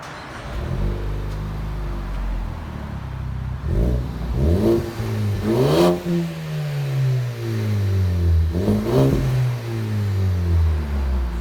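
A 2018 Ford Focus ST with a 2.5-inch Magnaflow exhaust system idles, then revs several times in sharp rising and falling blips, each with a deep exhaust rumble, close and loud.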